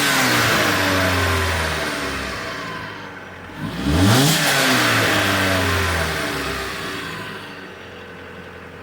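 A Dodge Dart fitted with a Mopar cold air intake idles, then revs up in one swelling burst and settles back to idle. The engine is close and fairly loud, with no talking.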